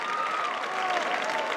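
Audience clapping steadily at an awards ceremony honoring college athletes, a dense, even wash of applause with no breaks, moderately loud and close, with a faint whistle or tone drifting through.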